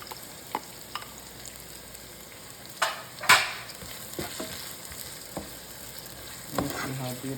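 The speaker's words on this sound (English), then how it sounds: "Now we're gonna add our saltfish or codfish." Saltfish, or salted codfish, dropped into a frying pan and stirred, sizzling steadily with scattered scraping spoon strokes and one louder clatter, close and moderately loud, with no talk.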